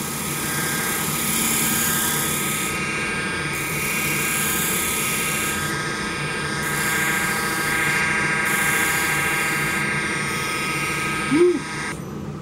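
A wood lathe spins a large hollow globe Christmas ornament with a steady, droning whine. The hum pulses in regular faint dips, and a short squeak rises near the end.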